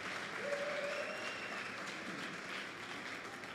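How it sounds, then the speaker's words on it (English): Faint, distant applause from an audience at a youth weekend event in the Northern Cape, steady clapping that continues for several seconds while a woman approaches the stage. "Let's give her a round of applause as she approaches the stage."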